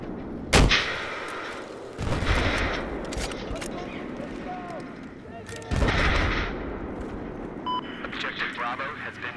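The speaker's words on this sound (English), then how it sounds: "one of our teammates set one down, another mortar down, and they're firing back" Mortar and artillery fire in the video game Battlefield: several heavy, sharp blasts with rolling decay, spaced a few seconds apart, under a busy battle mix and in-game radio chatter.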